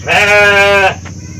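A single sheep in a pen lets out one loud, close bleat lasting most of a second, followed by quieter background noise.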